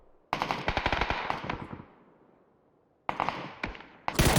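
SKS rifle fire in a PUBG pro scrim match: two rapid bursts of loud, sharp gunshots, the first volley ringing out and fading, then renewed shots after a pause, with another burst starting at the end.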